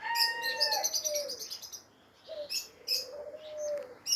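A bird calls in open sky on a very hot day, a few drawn-out tonal cries with chirpy overtones, separated by a short pause, moderately near above faint background noise.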